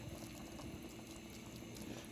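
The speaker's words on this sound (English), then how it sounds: "I have my potatoes boiling with salt water" Potatoes boiling in salted water in a home kitchen pot, a soft continuous bubbling and rolling simmer, faint and steady for a couple of seconds with no talking.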